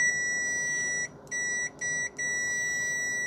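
A ZIBOO 101 multimeter in continuity mode gives a loud, steady high-pitched beep at maximum volume, broken by three short gaps into several sustained tones, close and alone.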